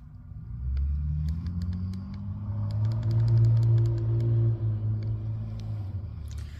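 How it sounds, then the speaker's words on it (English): A car passing nearby in the background at night in Mineral Spring Park, Williamston, South Carolina, a steady low engine rumble swelling toward the middle and then easing off, with faint clicking above it. "Another car in the background."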